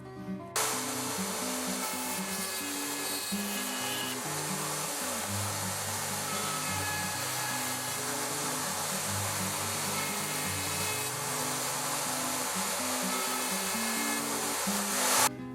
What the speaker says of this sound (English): So we'll want to smooth that off with a router.